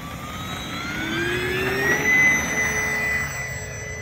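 An X-Fly Twin Otter 1800mm RC model plane throttles up for takeoff with flaps set, its motors giving a rising, steady whine that swells and then eases, heard at moderate distance over outdoor background noise.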